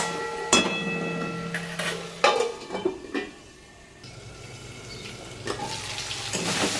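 Chicken cooking covered in a pan with no water added for a chicken roll filling, giving a steady soft sizzle with scattered lid and utensil clatters and a few sharper knocks, fairly close.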